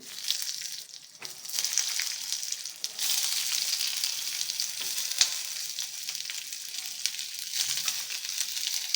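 Sliced medium onions fry in oil for a fish masala, a close, continuous crackling sizzle with a few brief dips and small stirring bumps, no voices.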